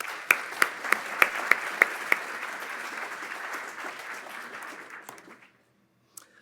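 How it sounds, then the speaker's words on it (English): Audience applause at an ornithologists' union business meeting, a dense steady patter of many hands with a few sharp louder claps early on, fading out after about five seconds into near silence. "Round of applause."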